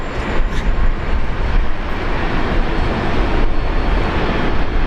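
A Qantas airliner in oneworld livery with the old logo takes off from runway 01 right at Brisbane Airport, a loud, continuous, broadband engine roar close to the listener that holds steady throughout.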